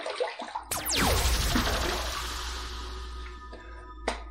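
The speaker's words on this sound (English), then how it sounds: "I just want to put a little bit of water on my face" Water splashed onto a face by hand before a shave: a sudden sloshing splash, then dripping and running water that slowly fades, with a short final splash near the end. No voices.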